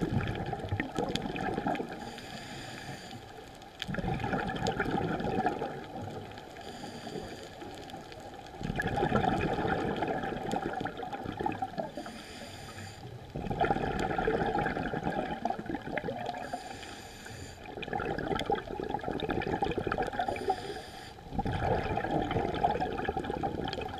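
Bursts of scuba diver exhaust bubbles rumble and gurgle underwater near a ledge reef in the Florida Keys, arriving in repeated surges a few seconds apart over a steady watery hiss.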